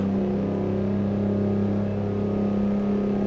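An R600 truck engine in American Truck Simulator pulls uphill on a highway, a steady loud low drone with tonal hum held at constant revs, no voices.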